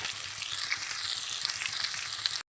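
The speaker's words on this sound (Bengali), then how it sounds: "গাজরটা আমার 2-3 মিনিট ফ্রাই করা হয়ে গেল" Carrots sizzle steadily in a hot pan while egg chow mein is being made, a close, continuous broadband frying hiss with small crackles throughout, cutting off abruptly for an instant near the end.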